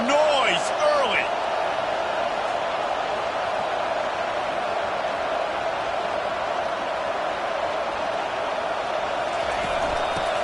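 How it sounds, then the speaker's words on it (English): Steady, dense roar of a large stadium crowd at a college football game between Oklahoma State and Texas A&M, loud and continuous throughout with a few early whistle-like tones. "This crowd bringing the energy and noise early"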